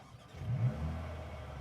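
Mercedes-AMG GLB 35 seven-seater starting up with its exhaust noise regulations in place: a brief rising engine crank and rev that settles into a low, steady idle, moderately close with no talk.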